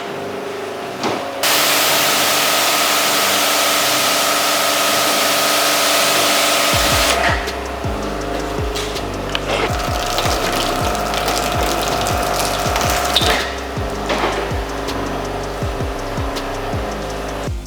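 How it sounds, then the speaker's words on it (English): A ceramic-coated car is rinsed off with water: a steady loud hiss of spray runs for several seconds, then gives way to a droning pump-like hum with scattered clicks and splashes underneath. "So, time to rinse off the car."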